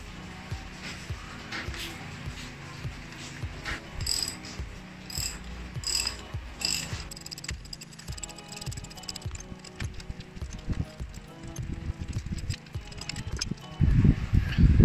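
An impact wrench works the 14mm bolts of a Yamaha Mio motorcycle engine support, producing close ratcheting, rattling mechanical bursts that grow louder toward the end.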